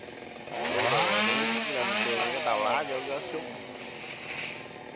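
A chainsaw whines and revs near at hand, its pitch rising and falling as it cuts through a coconut tree trunk near power lines, then easing off toward the end.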